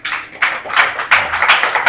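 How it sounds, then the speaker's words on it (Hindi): A classroom of children clapping together for a classmate, a brisk run of close, overlapping handclaps in several bursts over about two seconds. "वेरी गुड, शाबाश, ताली बजाओ भैया के लिए"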